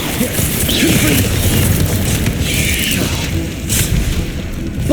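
A Confringo spell blast in the Hogwarts Legacy video game booms loudly amid dense, continuous combat noise, with heavier bursts near the start and end and a voice faintly audible underneath.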